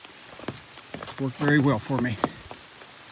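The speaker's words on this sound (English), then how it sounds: "We just had a pretty good downpour" Steady patter of rain after a downpour on a hiking trail, dripping onto an umbrella and leaves, heard beneath someone talking close by.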